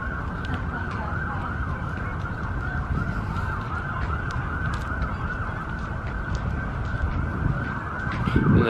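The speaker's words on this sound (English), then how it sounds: "In the background you can hear those lovely sirens going off non-stop." Emergency vehicle sirens wail continuously in Washington, D.C., blending with dense outdoor city noise and wind rumble at a steady, moderately loud level throughout.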